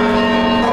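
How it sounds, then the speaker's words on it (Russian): The polyeleos bell of a church ringing as a loud, sustained metallic tone with a rich hum of overtones. "Полиелейный колокол."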